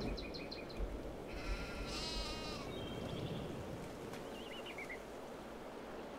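Repeated sheep bleats from the Farm Sim 22 video game, a few short calls and one longer wavering bleat, sounding fairly near over a constant low background hum.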